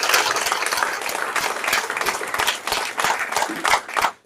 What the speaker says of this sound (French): il faut aussi les applaudissements s'il vous plaît pour lui